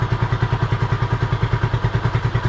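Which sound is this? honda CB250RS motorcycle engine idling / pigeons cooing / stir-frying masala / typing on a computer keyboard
honda CB250RS motorcycle engine idling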